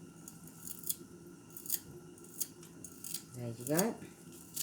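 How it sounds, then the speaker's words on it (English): Kitchen scissors snipping fresh parsley into small pieces, a series of sharp close metallic snips that quicken into a rapid cluster near the end, with a brief spoken remark. "We're going to cut in the parsley really small."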